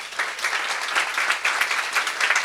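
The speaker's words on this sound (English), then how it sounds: "let's please give her a round of applause" Steady applause from a community gathering at a Hingham Unity Council event, dense clapping from a modest indoor audience holding an even level throughout, with no voices over it.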